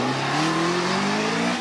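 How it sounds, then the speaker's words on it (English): A 3-litre Jaguar V6 engine of the X-type kind, fitted to a hill climb race car at Prescott, roars loud and close, its pitch climbing steadily through the gears as it accelerates. "This is a 3-litre Jaguar V6 engine"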